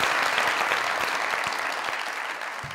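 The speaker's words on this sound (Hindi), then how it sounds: "तालियां करके" Studio audience on a Pakistani comedy talk show breaks into loud, dense applause, an even roar of clapping with a few sharper individual claps standing out, sustained from start to finish.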